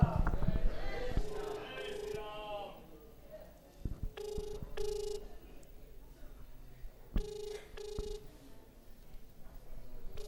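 A phone rings in short repeated bursts through a loudspeaker held to a microphone, with people talking around it in a noisy room at a Hindu religious gathering.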